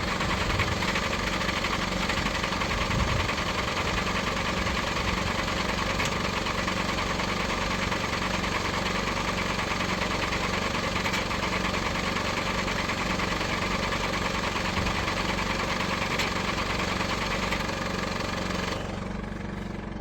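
A 2011 Ford Territory 2.7L V6 diesel engine runs loud and close with a steady, rough, rumbling drone throughout, with no talking, before the sound drops away near the end.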